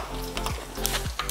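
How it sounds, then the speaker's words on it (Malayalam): Cinnamon and cardamom sizzle in hot oil in a close, steady crackle, with two or three soft scraping stirs through the pan. "അതിലേക്ക് പട്ട, ഏലക്കായ എന്നിട്ട് നല്ലോണം ഒന്ന്"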